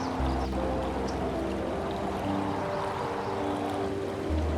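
River water flowing steadily where the Serengeti meets the Masai Mara, a continuous low rushing wash with a constant level throughout.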